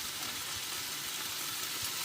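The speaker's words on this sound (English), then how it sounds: "So that's my garlic, ginger and chillies. I'm just going to fry this up slightly and stick it on a small heat." Garlic, ginger and chillies frying gently in a pan over low heat, a steady soft sizzle that stays even throughout, no talking.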